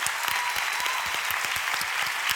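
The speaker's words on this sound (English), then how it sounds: "let's give these folks a round of applause" An audience claps for conference sponsors at a startup week event, steady dense applause with individual claps audible throughout, no talking.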